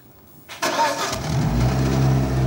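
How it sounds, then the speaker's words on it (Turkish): A manual-transmission car's engine is started: a brief starter crank, then the engine catches and settles into a steady, loud, close idle. "Şimdi marşa bas."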